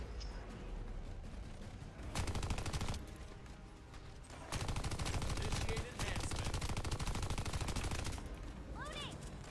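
Gunfire in the sci-fi shooter The First Descendant during a boss fight: continuous, moderately loud automatic shooting in long bursts with mechanical clicks and effects, and a player speaks briefly.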